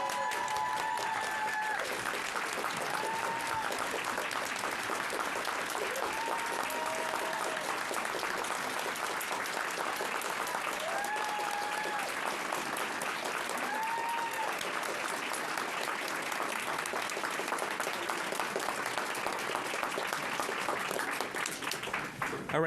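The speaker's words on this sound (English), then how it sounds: "let us stand and clap for you." A room full of people at a school committee meeting stands and claps, producing steady, dense applause that lasts over twenty seconds with a few faint voices.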